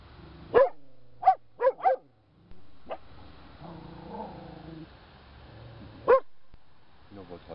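A dog gives several sharp barks in quick succession, then a low growling whine, and one more bark after a pause, nearby in a quiet setting.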